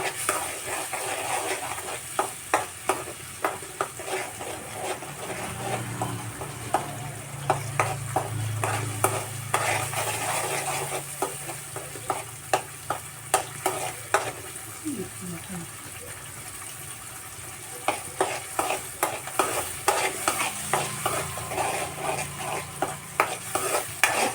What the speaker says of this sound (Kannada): ಚೆನ್ನಾಗಿ ಎಣ್ಣೆ ಬಿಡೋ ತನಕ ನಾವು ಬಾಣಲೆ ಒಳಗೆ ಈ ಮಸಾಲೆನ ಚೆನ್ನಾಗಿ ಕುಡಿಬೇಕು